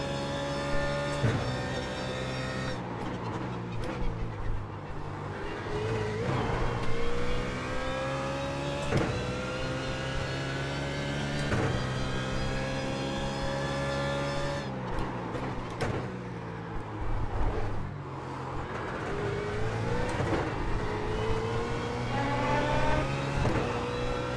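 A BMW Z4 GT3 race car engine in the iRacing simulator at Zolder revs continuously, climbing through the gears with sharp drops at each shift and downshift blips. Steady and close, with no talk over it.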